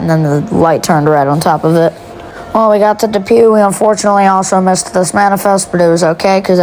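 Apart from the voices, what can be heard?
No everyday noises stand out.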